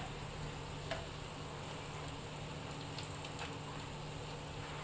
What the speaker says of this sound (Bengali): এইভাবে পাল্টাতে হবে, পাল্টে পাল্টে ভালোভাবে ভেজে নিতে হবে